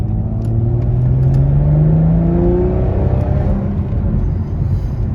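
Volvo V60 Polestar engine revving and accelerating between 3,000 and 4,000 RPM, a loud steady drone whose pitch climbs gradually and then levels off, heard close with no talk.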